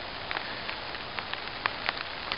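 Steady rain falling outdoors on a cloudy day, a dense even hiss with scattered sharper drops tapping a surface, heard alone at moderate distance.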